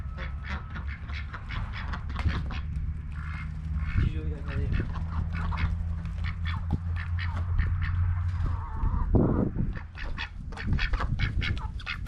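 Ducks and geese at the water's edge quack and honk in repeated bursts over a steady low engine-like drone, with a loud closer call near the end; a person talks intermittently in the background.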